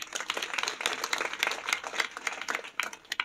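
A crowd at a Marathi kirtan gives dense, continuous clapping that holds steady for a few seconds and sounds full and close.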